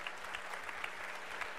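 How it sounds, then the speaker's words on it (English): A church congregation claps loudly in praise, a dense steady roar of many hands with a few sharper individual claps standing out, continuing unbroken throughout. "put your hands together and give a loud clap offering of praise to the Lord God Almighty"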